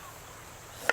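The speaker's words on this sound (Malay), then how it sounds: "Halia pun kita potong nipis-nipis juga." A single sharp knife chop slicing ginger thinly on a board while cooking corn rice at a campsite, one short crisp tap near the end over quiet outdoor ambience.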